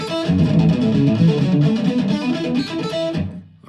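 Fast palm-muted hammer-on and pull-off exercise on a rock electric guitar, a dense, rapid stream of clipped notes played steadily without a break before fading at the end.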